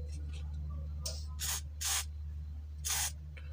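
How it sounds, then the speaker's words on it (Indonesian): Three short sprays of cleaning fluid hit the rusty shaft of a Yamakawa desk fan whose blades turn slowly. Each burst is close and crisp, with a small tap before the first, over a steady low hum. "Pakai cairan pembersih kita semprot"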